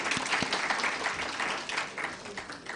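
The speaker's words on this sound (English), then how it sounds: "Let's give her a round of applause." An audience at a World Breastfeeding Week 2023 event claps for a speaker, a sustained wash of many hands applauding at even loudness, easing slightly near the end.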